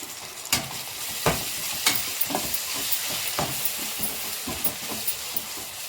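Chopped tomatoes being stirred into a fish curry in a pan, with a steady sizzle and hiss under repeated scraping strokes of the spoon, close and moderately loud, and no voices.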